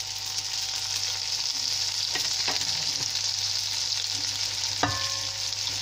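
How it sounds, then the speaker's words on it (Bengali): Soaked, drained rice frying with spices for Old Dhaka-style chop biryani, giving a steady close sizzle with a few soft clinks of a stirring spoon and no talk. "তো চালটা আমি এখন ভেজে নিব।"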